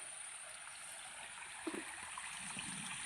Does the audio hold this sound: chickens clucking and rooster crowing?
no